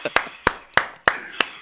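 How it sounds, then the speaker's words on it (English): On a talk show set, an audience greets an arriving guest with slow, evenly spaced claps, five crisp distinct hits about a third of a second apart rather than a full ovation. "put your hands together and welcome Miss Neice Knight to the show."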